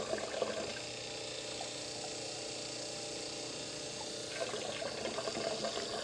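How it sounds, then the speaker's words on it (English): Water runs steadily through a tube and a solid carbon block filter, trickling into a beaker with a continuous, moderately quiet gurgling flow that swells slightly near the end; no one talks. "This liquid is going right through this tube, through the solid carbon block, and into this beaker."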